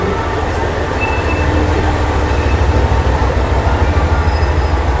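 The Hanaakari sightseeing train in Japan rumbles steadily nearby, with rhythmic clatter of wheels on track and faint squeals over a loud, continuous low roar.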